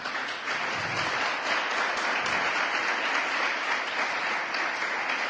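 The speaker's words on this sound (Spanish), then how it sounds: "Vamos a darle un aplauso a los niños." A congregation at a church service applauds the children with steady, dense clapping that stays loud and even from start to finish, with no voices breaking through.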